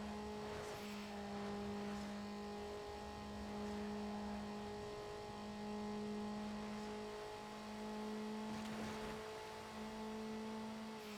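A simulated car engine in a racing video game drones at steady revs, its tonal hum rising and falling gently over about eleven seconds, quiet and alone with no talk.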